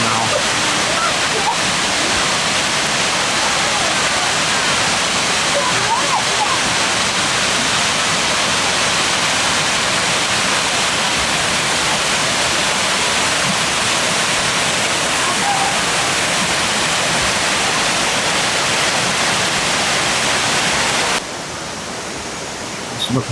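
A water course flowing down either side of the water garden at a villa in Rome, a steady loud broadband rush of falling water, continuous and close, ending abruptly near the end.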